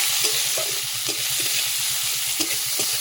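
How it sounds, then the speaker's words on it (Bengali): Onions frying in a pan for a Howrah-style egg curry, with a steady sizzle and occasional stirring scrapes throughout, close and fairly loud, with no talking. "পেঁয়াজগুলো একটু ভেজে নিয়ে"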